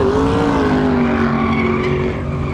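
An old Volvo PV fitted with a huge V8 engine and huge rear tires, its deep engine note droning steadily and loudly nearby, with a slight pitch rise early and a slight drop near the end.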